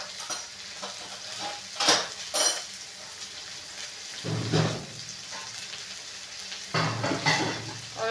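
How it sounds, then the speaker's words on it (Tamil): Onions frying in oil for sambar give a continuous close crackle, punctuated by several bursts of spoon scraping and clattering against the pot. "வெங்காயம் பாருங்கள், எண்ணெயில் போட்ட உடனே சக்கன்னு எப்படி பொரிஞ்சிட்டாங்க"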